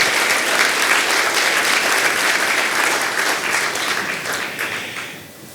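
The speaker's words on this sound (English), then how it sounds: "Let's give another round of applause to all of these wonderful folks." Sustained audience applause at a school district State of the District event in Manchester, a loud, dense crowd clapping that holds steady before tapering off toward the end.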